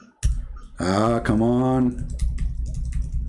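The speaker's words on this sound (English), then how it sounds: "I'm typing. You see, it's not working." A faulty computer keyboard being typed on produces irregular clicking keystrokes that continue under and after a short spoken exclamation.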